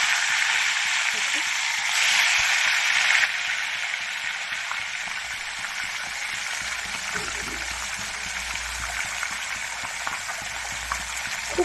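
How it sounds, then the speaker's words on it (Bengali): Pieces of silver carp frying in hot oil, a steady close crackling sizzle that runs throughout with a louder burst early on, with no talking. "আমি বাকি মাছগুলিও একে একে ভেজে নিচ্ছি।"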